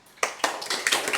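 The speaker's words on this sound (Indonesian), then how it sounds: "Aplaus buat Mas Ali ya" Applause for a presenter named Mas Ali at the end of a group class presentation, a short burst of a few people clapping with uneven, sharp claps building over about a second.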